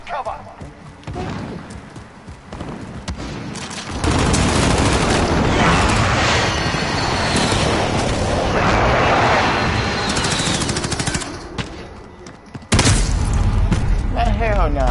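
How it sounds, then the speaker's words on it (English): Enemy precision airstrike in Call of Duty Modern Warfare (2019), loud rumbling explosions and gunfire rolling on for several seconds, then a sharp heavy blast near the end, with a voice talking during the quieter opening. "Enemy precision airstrike, take cover."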